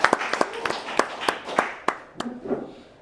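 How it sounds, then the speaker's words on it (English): Scattered, fairly sparse hand claps from a small live audience at a tech panel event, about a dozen crisp claps in quick rhythm that thin out and fade after a few seconds. "give her another round of applause"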